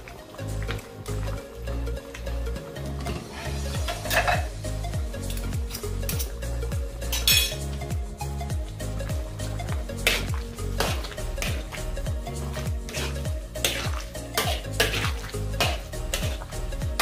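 A spoon stirs and mixes pork caldereta, a Filipino pork stew, in a pot, with steady repeated scraping and clinking against the pot over a soft simmering sizzle, close and continuous with no talk.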